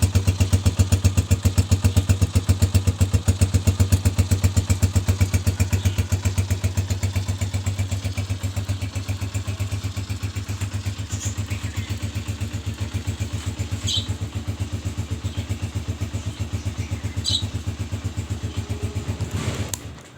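A 2020 Honda CG125 Special Edition single-cylinder motorcycle idles up close, a loud, even, fast putter that runs steadily, eases slightly after a few seconds, and cuts off at the very end with no talking.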